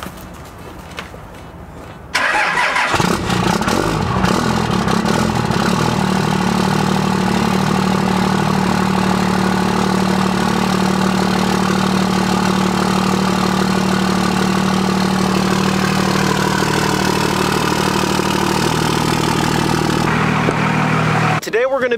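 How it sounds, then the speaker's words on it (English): A 2011-2016 Ford Super Duty truck engine cold-starts on a 10-degree morning: after two seconds of quiet it cranks and catches, then settles into a steady, loud idle with a faint whine before cutting off near the end. "Let's get you a nice 10 degree cold start here."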